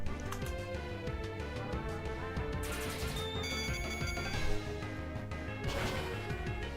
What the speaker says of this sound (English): I like the ringing on it. It's like metal, like electric guitar kind of deal.